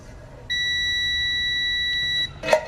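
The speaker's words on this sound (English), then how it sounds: "So you can see how that beeps." A single steady multimeter continuity beep across Mitsubishi parking brake terminals, high and pure, holds for nearly two seconds then stops, followed by a brief clatter.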